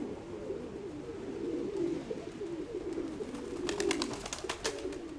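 Pigeons coo in low, soft, rolling calls throughout, close by, with a few brief clicks or wing taps near the end.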